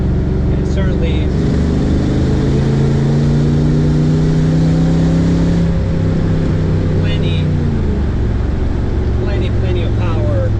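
A 1967 Chevrolet Corvette restomod with an L98 engine pulls away on the road, its engine note droning and rising steadily as it accelerates, loud and close throughout, with faint talk at moments.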